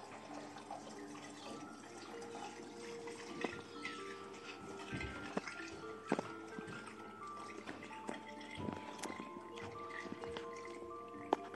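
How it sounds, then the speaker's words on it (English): Warm elderberry syrup pours through a funnel into a bottle as a quiet, continuous trickle, with gurgles and drips and a few soft glass knocks. "I'm just going to be using a funnel and I'm going to pour that in."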